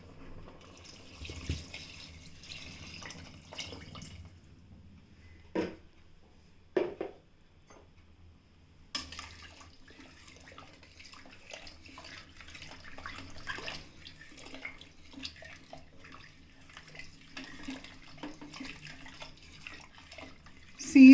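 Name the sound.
water being added to dal and tamarind in pot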